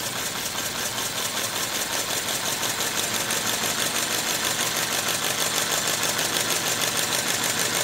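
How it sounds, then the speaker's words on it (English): A compressed-air powered V8 engine runs at a slow idle, giving a steady, evenly pulsing rapid chuffing with a hissing airy texture, close and continuous with no talking. "First, we'll run it at a kind of a slow idle."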